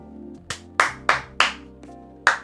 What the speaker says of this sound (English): Clap it up for the two of them.